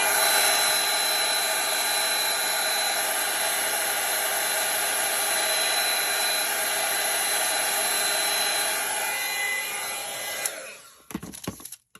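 A heat tool blows a steady, loud rush of hot air across a faux wax vintage craft label, running continuously for about ten seconds before cutting off, followed by a few faint handling clicks.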